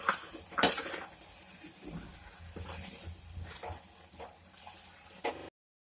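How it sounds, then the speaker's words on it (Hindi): Carrot halwa with cardamom is stirred in a pan, giving a scraping, clattering spoon-on-metal sound with one sharp clink early on and softer irregular stirring scrapes after it, all without any voice. "अब इसमें इलायची डालते हैं और इसे अच्छे से मिला लेते हैं।"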